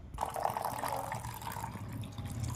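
Cold water poured into a mixture of scooped-out roasted green mango pulp: a continuous close splashing fill, steady throughout and alone.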